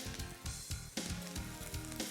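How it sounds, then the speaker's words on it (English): White onion, broccoli, peppers and fresh garlic sizzle in a hot stir-fry pan, a steady close crackling hiss with brief stirring scrapes and no talk. "You hear that sizzle?"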